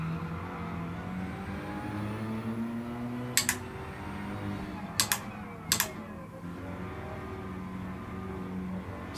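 Ferrari 488 GTB engine droning steadily in a racing video game as the car shifts up to second gear, a low continuous hum with a few sharp clicks from the controls cutting through.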